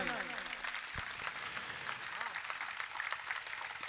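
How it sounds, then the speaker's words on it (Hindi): A crowd at a rally claps steadily, a continuous patter of applause that runs the whole time while a voice carries over it. "जरा जोरदार ताली बजाओ भैया,"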